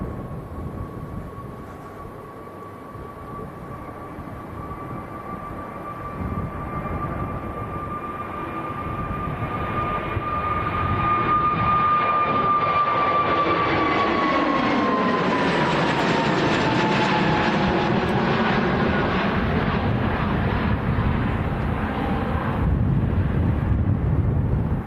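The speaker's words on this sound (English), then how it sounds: "So this is EasyJet. This is going down to Hurghada in Egypt." EasyJet airliner jet engines at Manchester Airport, a steady whine with a rising roar that swells and stays loud for most of the stretch, with no voices over it.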